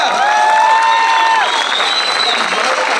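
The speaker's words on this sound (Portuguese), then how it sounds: "Palmas para vocês" Audience applause at a live comedy show in Ponte de Vagos, a steady dense wash of clapping from a crowd, with voices and whistle-like tones rising over it.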